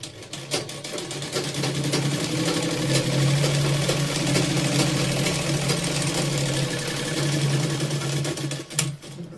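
A sewing machine stitches a blouse with a steady, close motor whir and rapid needle chatter that runs unbroken throughout, with no voices.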